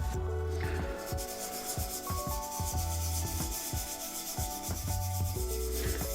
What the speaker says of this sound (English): Good thing about wet sanding is